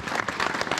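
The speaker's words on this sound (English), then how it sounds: "Round of applause for my roadies here tonight." Audience applause at a live comedy show, a brief burst of many hands clapping together, fairly loud and dense.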